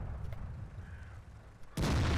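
A World of Tanks tank cannon fires near the end, one abrupt, loud, broad blast after a stretch of low engine rumble and quiet battlefield noise.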